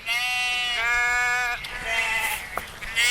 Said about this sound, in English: I've never heard the sheep so buoyant.